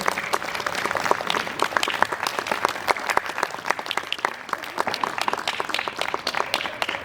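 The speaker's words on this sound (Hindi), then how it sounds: "जोरदार तालियां दीजिए, बहुत ही सुंदर" An audience breaks into dense, full applause after a devotional poem recital at a Gudi Padwa puja gathering: many hands clapping continuously and fairly loudly, sustained throughout with a faint crowd murmur underneath.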